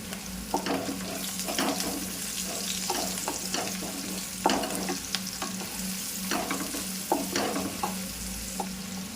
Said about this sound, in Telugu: ఉల్లిగడ్డ మరీ ఎక్కువ వేగనియొద్దు.